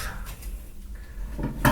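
A cutting board and knife being picked up in a home kitchen while cooking sweet-and-sour chicken, with a pot of oil nearby: soft wooden knocks and a sharper metallic clatter near the end, close and fairly quiet.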